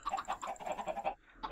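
Chickens in the Minecraft video game cluck in a steady run of short, throaty calls, kept in a small confined pen, ending in a brief pause before one more cluck.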